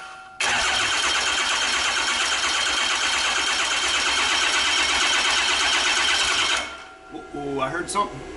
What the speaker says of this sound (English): Sounds like something's about to fire up.